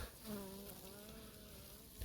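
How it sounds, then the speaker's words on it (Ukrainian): Honeybees packed into a hive colony being prepared for winter give a soft, steady insect hum that runs faint and continuous throughout. "Колодці набиті бджолою, не знаю, чи камера передає."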